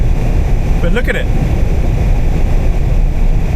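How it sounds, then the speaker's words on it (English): A truck engine's cooling fan runs with a steady, loud broadband whoosh in freezing Alaskan cold, continuous throughout while someone briefly talks over it. "Sorry about the fan noise. The engine's still heating up."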